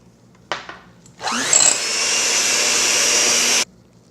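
An electric mixer whipping green tea white chocolate cake batter: a short burst, a pause, then a loud steady whirring whine for a couple of seconds before it cuts off abruptly.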